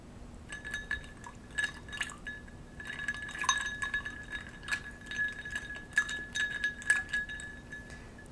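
A White Russian cocktail stirred in a glass, light repeated clinks of a spoon against glass with soft liquid swirling, close and quiet, no voices.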